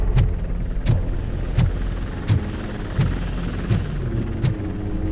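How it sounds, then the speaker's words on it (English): Helicopter in the RoboCop: Rogue City video game, a steady low rotor rumble with regular thumping blade beats about every 0.7 seconds, continuous and moderately loud with no voices. "That's a TV helicopter."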